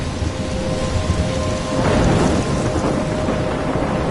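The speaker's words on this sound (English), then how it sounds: "I'm trapped in the storm?" Storm scene in the Life Is Strange video game: dense, loud rain and wind with a deep thunder rumble building near the middle, constant and close, no voices present.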